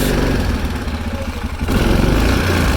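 A Yamaha Kodiak or Grizzly 400/450 ATV quad engine runs loud and close with a steady idle chug, then picks up to a slightly faster, rougher beat partway through.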